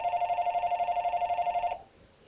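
A house telephone rings with a steady warbling electronic trill, loud and close, for almost two seconds before cutting off into quiet room tone, with no one talking over it.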